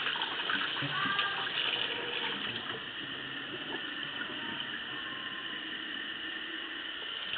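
Running water pours steadily into a bowl as quinoa is rinsed, a continuous close splashing wash that holds at an even level throughout with no talking.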